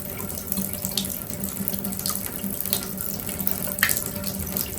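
Water from a shower running steadily and gradually weakening after the house's main supply is shut off at the street, a continuous close hiss and splash with no talk.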